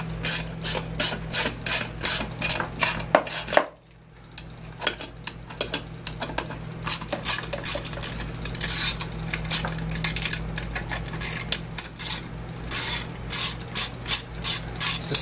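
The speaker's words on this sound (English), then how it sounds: "Let's take the muffler off" A hand ratchet clicks in quick repeated bursts while removing the muffler from a Craftsman chainsaw, close and loud, with a short pause and rhythmic cranking strokes throughout, no speech.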